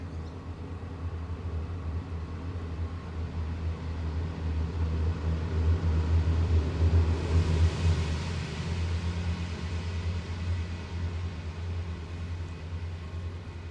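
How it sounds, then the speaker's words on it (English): A truck passes along a driveway, its low engine rumble swelling steadily to a peak midway, then easing off again as it moves away; no one speaks. "Hello, truck."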